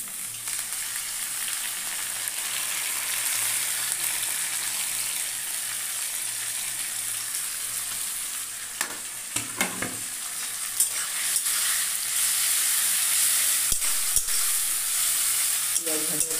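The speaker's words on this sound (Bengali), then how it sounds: "অপেক্ষা করি পেঁয়াজটা ভালো করে ভাজা হয়ে যায়।" Onions and spices sizzle steadily in mustard oil in a pan, with a continuous frying hiss and intermittent scraping stirs of a spatula in the middle and near the end.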